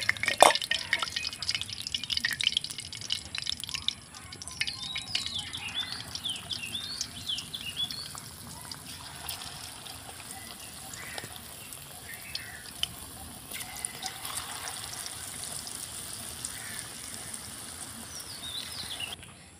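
Marinated chicken pieces frying in hot oil for chili chicken, giving a steady crackling, dripping patter close by. The sizzle is louder at the start and then settles into a softer, even bubbling.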